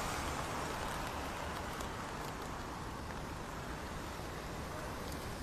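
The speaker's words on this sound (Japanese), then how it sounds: "現在少しずつ雨風ともに激しくなってきてます。" Typhoon In-fa drives heavy rain and wind across Shanghai's Bund waterfront, a dense, unbroken roar of rainfall and gusts that stays loud and even throughout, with faint road traffic mixed in and no talking.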